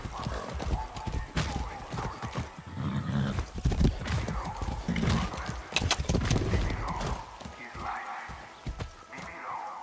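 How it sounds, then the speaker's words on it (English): A ridden horse in Far Cry 6 gallops with heavy, rapid hoofbeats and neighs amid rustling movement, with faint voices around it. "I haven't ridden a horse since basic training."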